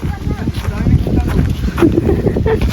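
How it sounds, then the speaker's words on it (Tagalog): Strong wind blasts across an open farm, a dense low roar buffeting the microphone continuously for the whole stretch, with voices faintly talking underneath. "Yan, sobrang lakas ng hangin."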